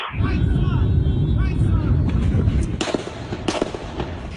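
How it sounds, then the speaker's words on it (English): Sharp cracks of rapid gunfire ring out in a burst over loud, noisy outdoor commotion during a gun battle with police in Alexandria, with a few distinct shots standing out near the end. "the chilling moment that rapid gunfire broke out in Alexandria this morning"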